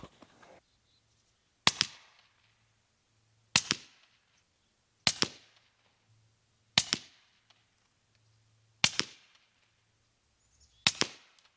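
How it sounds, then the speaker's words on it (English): Six suppressed shots from a Mini M4 rifle in 300 Blackout fitted with a TiTrex suppressor, evenly spaced about every two seconds. Each is a sharp, loud crack with a short decay outdoors, with quiet gaps between. "Now, I shot 6 rounds, didn't I?"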